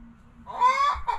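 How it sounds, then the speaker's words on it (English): A pet chicken lets out a loud, close squawking cluck call lasting about a second, with a brief second burst at the end, heard alone over a low background hum. "I am so sorry my chicken had to go off right now"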